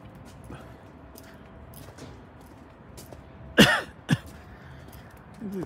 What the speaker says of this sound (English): Cold here, making me cough a bit.